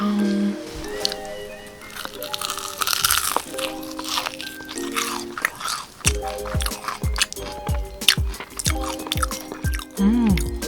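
Fried chicken from a two-chicken deal is eaten up close, with repeated crisp crunches and wet chewing. Background music with voices and short spoken bits plays beneath.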